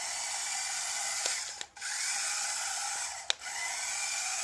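A small radio-controlled monorail toy vehicle runs across carpet, its tiny motor giving a steady high whine that cuts out briefly twice, with light clicks at each stop. No voices are heard.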